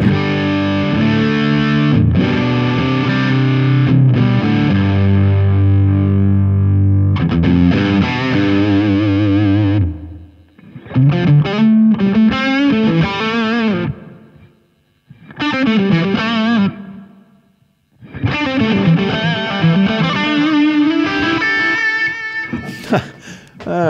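Overdriven electric guitar through a Tonex pedal on a Nobles overdrive setting, playing sustained chords and riffs, with gritty distortion and a few short pauses between phrases, loud and close.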